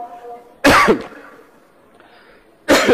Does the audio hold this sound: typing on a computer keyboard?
no